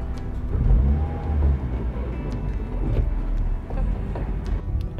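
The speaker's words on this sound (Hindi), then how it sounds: "आइडलिंग भी बहुत सही है, मतलब फ्लक्चुएट नहीं कर रहा है" Hyundai i10 Sportz with 60,000 km on it, its engine idling steadily: a low, even rumble that stays close and constant, with small bumps and faint clicks and no voices.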